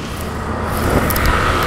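Traffic backed up at the Juanda U-turn, heard from a new Yamaha Grand Filano scooter: steady close road noise with engines droning and a broadband rush throughout, no voices.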